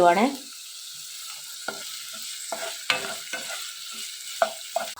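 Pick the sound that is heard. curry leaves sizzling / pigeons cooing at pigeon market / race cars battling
curry leaves sizzling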